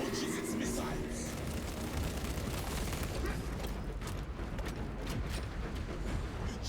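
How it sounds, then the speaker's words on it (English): Titan launching a volley of missiles in the video game Space Marine 2, a dense continuous roar of booming launches and rumbling blasts with mechanical clatter, loud and sustained throughout. "The Titan launches its missiles."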